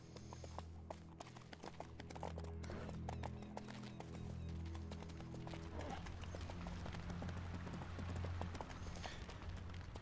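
Horse hooves clip-clopping at a steady riding rhythm over a low game soundtrack in Age of Conan, close and continuous, with an occasional whinny and no talk.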